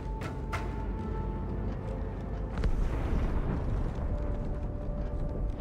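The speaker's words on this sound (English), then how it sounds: "That explosion came from inside the Athens." A muffled, rumbling explosion inside a ship called the Athens in the video game Halo 2: Anniversary, a dense low roar that swells midway and rolls on steadily, with no talk over it.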